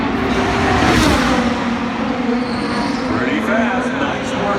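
IndyCar race cars in the pit lane at the Indy 500 during green-flag pit stops, with a loud, continuous engine roar and cars whooshing past under steady commentary and crowd noise.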